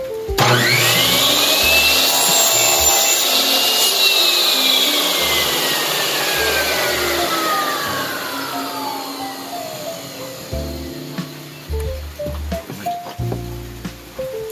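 A miter saw spins up with a loud whine and bites through a fairly hard piece of wood, its pitch falling under load before the blade winds down, followed by scattered knocks and handling clatter nearby.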